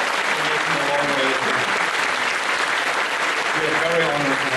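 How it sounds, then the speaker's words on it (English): Sustained, loud audience applause at a convention opening ceremony, with dense crowd clapping throughout and voices faintly audible beneath it. "So give him a big round of applause."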